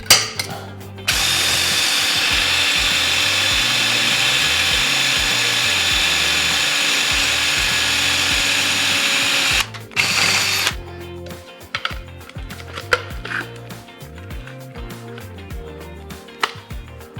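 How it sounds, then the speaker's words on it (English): Power drill boring a hole for a ProTaper handlebar mount on a Honda CRF250L, a loud steady whine held for about nine seconds, then short stop-start bursts and ratcheting clicks close by. "I have to drill the hole a little bit closer."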